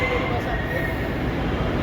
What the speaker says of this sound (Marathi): आता ही लोकल आलेली आहे पुण्यावरून पीसीएमसीला आलेली आहे